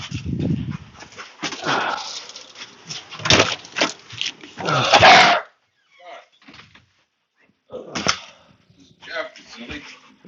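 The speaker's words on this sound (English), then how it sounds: "You're going to hear other dogs barking when I get in." Several dogs bark in short, loud bursts in an indoor space, with sharp overlapping barks followed by quieter gaps and a few scattered yelps toward the end.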